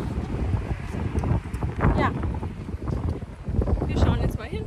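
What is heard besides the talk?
wind blowing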